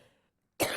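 A sudden single cough bursts out after a near-silent pause, loud and close, with a harsh, breathy throat-clearing quality.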